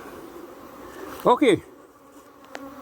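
Bees buzz around a beekeeper in protective clothing, a low steady hum with one loud close pass as a bee flies near, and a brief spoken word over it.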